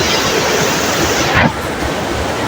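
Water of the Seti Gandaki river rushes past in a continuous close broadband roar, with a slight dip in level partway through and no voices.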